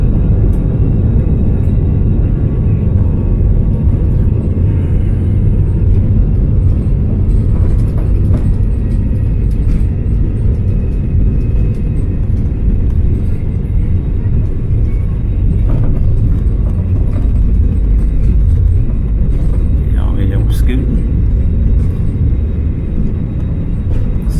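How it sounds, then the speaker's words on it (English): A loud, steady roar of jet engines rumbles continuously as an airplane rolls along the runway at Siem Reap airport, Cambodia, for takeoff, with faint clicks and rattles inside the cabin. "We're clear for takeoff."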